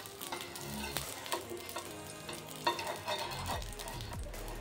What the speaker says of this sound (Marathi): तव्यावरती आपल्याला हलकंसं असं साजूक तूप लावायचं आहे